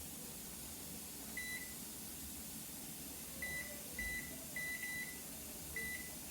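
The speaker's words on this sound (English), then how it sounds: "So we're going to set our timer." A kitchen timer beeps in short tones while being set during pressure canning of raw-pack chicken, with single beeps and a quick cluster over a steady hum of the canner.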